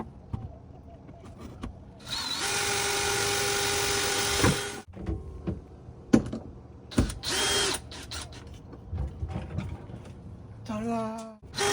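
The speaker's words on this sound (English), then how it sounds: "you're going to pre-drill your hole, which we'll do in a second" Power drill pre-drilling a screw hole in a wooden honey warming cabinet: a loud steady whine for about two seconds, then short bursts and clicks, with a brief rising rev near the end.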